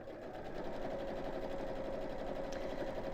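A sewing machine runs steadily down the middle of folded fabric, giving an even, rapid mechanical whirr at low volume with no breaks.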